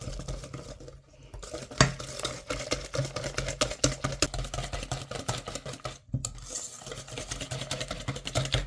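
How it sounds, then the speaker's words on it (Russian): A honey gingerbread mixture with an egg yolk added is stirred in a bowl, producing steady, rhythmic scraping and clinking of utensil against the dish at close range, with a couple of brief pauses. "Перемешиваем."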